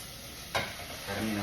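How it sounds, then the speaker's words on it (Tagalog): Beef dropped into a hot pan with onion and ginger hisses sharply on contact, a short burst of sizzling that settles into a steady frying crackle close by. "Ilagay na natin yung ating baka guys."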